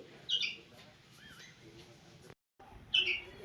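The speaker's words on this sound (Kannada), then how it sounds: "ಒಂದು ಪಕ್ಷಿ ಹಾರ್ಕೊಂಡು ಬಂದುಬಿಟ್ಟಿದೆ ಒಳಗಡೆ" Small bird, a sparrow, chirping indoors after flying into a house: two brief high chirps at the start and end, with soft household noise between.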